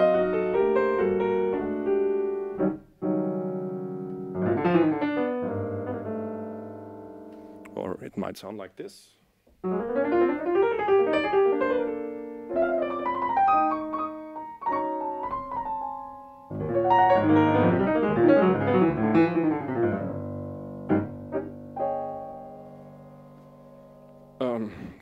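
Improvised piano playing, with free-flowing phrases of chords and runs that stop and restart in short bursts, played close and fairly loud, with a brief spoken line partway through.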